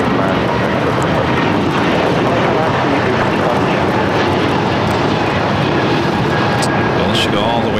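Airliner landing at LAX, a loud continuous roar of engines and rushing air that fills the whole stretch, with radio chatter and voices heard faintly beneath it.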